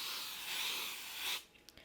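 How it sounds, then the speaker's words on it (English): 505 temporary adhesive spray hisses onto the back of a sheet of vinyl in one steady, close burst of about a second and a half, then stops, leaving a few small handling taps. "on the wrong side of my vinyl, I'm just going to spray my 505 spray."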